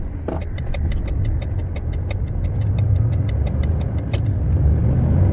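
A car pulls away with a low, steady engine rumble, accompanied by a regular ticking or clicking pattern throughout.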